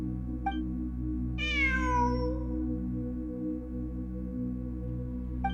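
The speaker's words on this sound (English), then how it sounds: "I'm not hearing things. It really is a cat." Single drawn-out cat meow from Genshin Impact, rising then falling in a clear harmonic wail, heard alone over a steady low ambient game drone with faint soft blips at the start and end.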